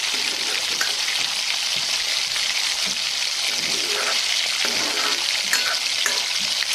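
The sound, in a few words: spice masala cooking in oil with a little water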